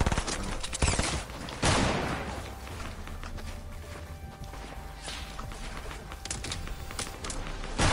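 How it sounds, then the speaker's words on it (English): Gunfire from an opposing team in a Fortnite Battle Royale match. Sharp cracks and bursts of shots come in clusters, loud and close at first, then lighter rapid fire keeps going, with no talk. "Other team shooting me."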